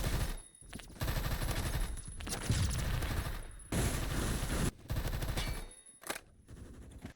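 Automatic weapon fire in the video game Phantom Forces: loud, rapid bursts of gunshots with brief pauses between volleys, close and alone.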